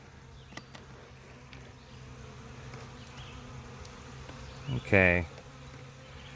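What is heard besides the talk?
honeybees fanning at a nucleus colony hive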